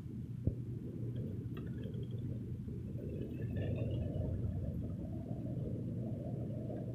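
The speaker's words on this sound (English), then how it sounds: "It's actually thundering out, shockingly." Low thunder rolls on steadily beneath rain during an April afternoon, a continuous deep rumble that swells slightly in the middle, with a single sharp knock near the start.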